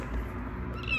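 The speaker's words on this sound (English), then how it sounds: "What a little squeaky kitty." A small kitten gives high, squeaky meows, close and fairly loud, with a brighter cry rising near the end of the short stretch.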